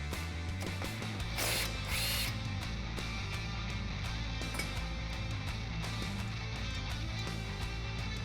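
A power tool works on a brake line bracket on the lower control arm of a two-door Jeep Wrangler JL, whirring steadily at moderate volume with a couple of brief louder bursts.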